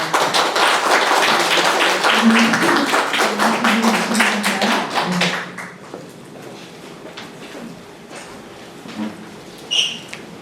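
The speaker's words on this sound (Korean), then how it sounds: "다시 한번 위원장님께 큰 박수 부탁드립니다" A crowd applauds the committee chair at a press conference for a performing arts creation program. Dense, steady clapping fills the first five seconds, then thins to scattered claps and quieter room noise.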